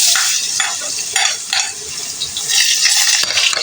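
Garlic is stirred in a hot pan for dry pork adobo, giving a steady close sizzle broken by scraping and light metallic clinks of the utensil, with no talking.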